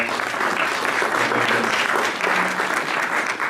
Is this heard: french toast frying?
no